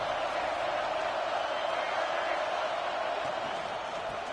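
A stadium crowd in the College Football 26 video game cheers and roars as a dense, steady wall of noise, with a commentator's voice over it.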